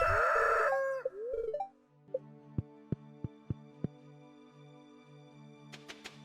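A rooster-like crow and chicken clucks from the game Stardew Valley open, followed by a few sharp plucked tones and chiming notes over a steady synthetic background, game-like and clean.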